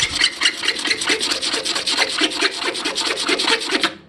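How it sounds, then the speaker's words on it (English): A razor blade scrapes cured resin on a carbon fiber surface in fast, even strokes, a dry rasping rhythm repeating close by for about four seconds. "So if I keep scraping, I can still take layers off without having to use sandpaper and gouge into the resin"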